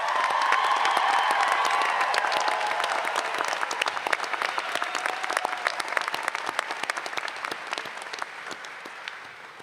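Graduation ceremony audience for a college's class of 2024 applauding at a doctoral hooding ceremony, a dense, sustained wave of clapping with faint cheers that holds steady and slowly thins toward the end.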